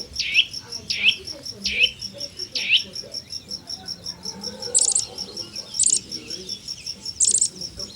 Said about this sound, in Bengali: অতিরিক্ত পাখির আওয়াজ হচ্ছে।